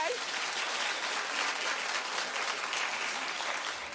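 Steady, dense applause from a large television talk-show studio audience fills the whole stretch, the clapping holding an even loudness without a break.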